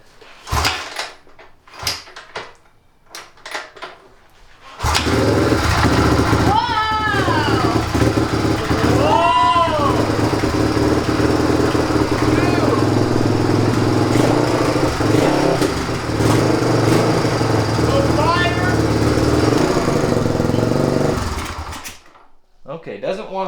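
A dirt bike that once caught fire is kicked over a few times with clattering, then its engine catches and runs loudly on choke for about seventeen seconds, revving up and down before cutting out.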